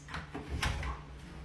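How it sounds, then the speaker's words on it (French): A door opens indoors with a short creak and a soft thud, a quiet, brief sound rising and settling within about a second. "Et maintenant, je vais ouvrir la porte."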